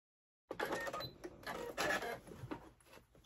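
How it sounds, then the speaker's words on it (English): A sewing machine runs at a long basting stitch length, sewing a zipper down onto a fabric panel, with a steady, close mechanical whirring that surges and eases over a few seconds, with no talking. "I am going to baste my zipper down to this panel."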